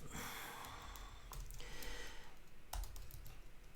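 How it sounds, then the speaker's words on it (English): A computer keyboard is typed on in quick, uneven bursts of close, faint clicks, with soft breathing noises and no talk over it. "And I'm going to type this out."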